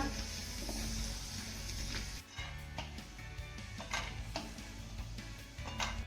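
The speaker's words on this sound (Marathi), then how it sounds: "सात ते आठ काजू हे देखील आपल्याला सोनेरी रंगावरती तळून घ्यायचे" Cashews fry in hot oil, giving a soft, steady sizzle with faint ticking and stirring clinks scattered throughout, fairly quiet and without talk.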